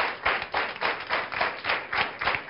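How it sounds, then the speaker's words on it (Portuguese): Studio audience applause welcoming a guest from Hospital Dona Estefânia on a talk show: close, bright clapping that pulses in a quick, even rhythm of repeated bursts, with no talking over it. "para quem peço uma salva de palmas"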